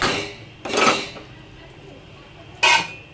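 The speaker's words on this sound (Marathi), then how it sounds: "चांगली आता झाकण ठेवूया" A lid is set on a cooking pot holding egg curry gravy, with two distinct metallic clanks about two seconds apart over faint background noise, close and fairly loud.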